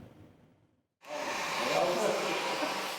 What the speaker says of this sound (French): Le bruit du sèche-cheveux a remplacé le son ahurissant des bombes.